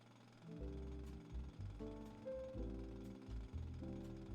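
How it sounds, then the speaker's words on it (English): Heavy mechanical drilling in a game world, a loud pounding rumble in long bursts with short pauses between them, and a few sharp metallic ticks on top. No talk is heard. "I hear drilling."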